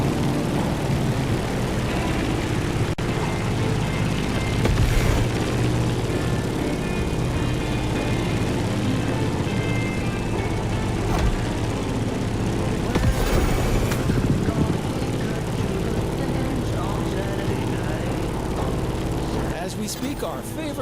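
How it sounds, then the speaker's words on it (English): A Grumman F8F Bearcat propeller fighter flying in the racing game The Crew Motorfest, a loud, continuous droning engine roar with a steady hum throughout and occasional brief rushing swells. "In the cockpit of a stunning Grumman F-8F Bearcat, or simply the Bear."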